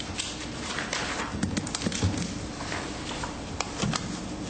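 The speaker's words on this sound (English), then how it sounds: "They start working their horses." Horses being worked on a ranch give off irregular clip-clopping hoof strikes over dirt, with a scattered rhythm of thuds and taps above steady background noise.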